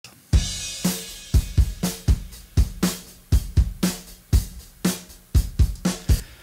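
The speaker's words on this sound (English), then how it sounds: "Now the drums in total sounds like this." Full drum kit mix with aggressive processing, steady groove of punchy kick and snare hits with bright cymbals on top, loud and close, about a dozen strong beats, no voices.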